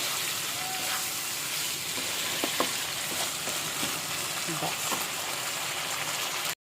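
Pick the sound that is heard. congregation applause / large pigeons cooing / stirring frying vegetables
stirring frying vegetables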